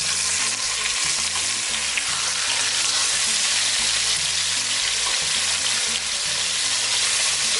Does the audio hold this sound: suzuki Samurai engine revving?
no